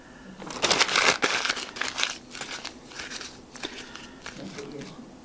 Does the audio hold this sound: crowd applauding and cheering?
no